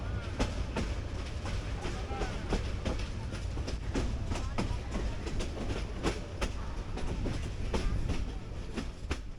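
A passing passenger train in Bangladesh rumbles loudly and steadily, its wheels clacking in a fast, regular rhythm over the rails, close by throughout.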